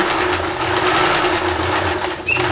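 A sewing machine stitches a seam on recycled denim jeans for a sling purse, a steady close mechanical whir running continuously, with a brief higher squeak near the end.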